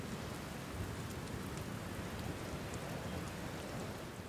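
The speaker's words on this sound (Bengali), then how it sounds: "বাতাসের ভয়ানক শোঁ শোঁ আওয়াজের সাথে সাথে শুরু হলো তুমুল বৃষ্টি" Heavy rain pours steadily in a storm, a dense, even hiss of drops on surfaces that continues without a break, fairly soft overall and with no voices.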